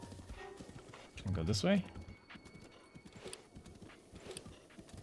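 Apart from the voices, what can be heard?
horse hooves and neighing in Zelda: Breath of the Wild video game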